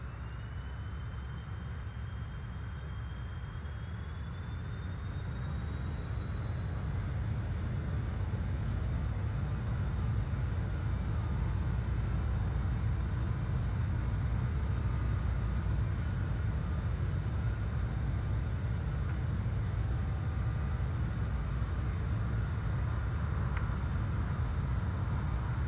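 Jet engines of a Just Flight BAe146 spool up during the takeoff roll in Microsoft Flight Simulator, a steady loud roar with a rising whine that builds and holds throughout.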